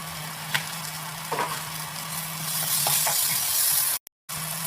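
Masala spices for a Kerala-style squid roast being sautéed in a pan, a continuous close sizzle with a few light clinks and scrapes of stirring, then a brief dropout near the end; no talk.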